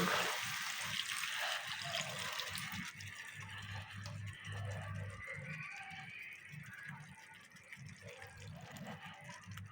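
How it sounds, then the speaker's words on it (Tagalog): Water poured into a cooking pan holding ampalaya and pork, a steady close pour and trickle running nearly ten seconds without pause. "Tapos lagyan natin ng konting tubig,"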